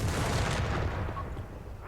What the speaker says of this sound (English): Gurkhas depart with an assault grenade volley.